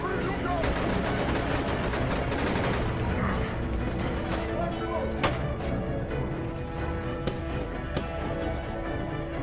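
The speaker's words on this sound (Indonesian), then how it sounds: "Tapi posisi mereka kini telah terkepung. Terjadi baku tembak di antara mereka." Gunfire exchange in an action film about elite special forces fighting terrorists, heard as dense, continuous shooting with sharp individual cracks under a loud, full soundtrack.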